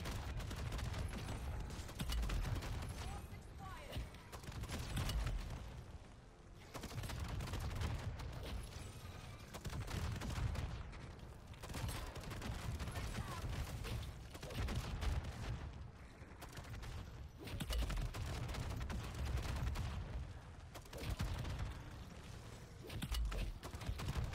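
In-game mimic enemies firing at the player: faint, continuous volleys of gunfire and thudding impacts in repeated bursts, broken by brief lulls over a long stretch of combat.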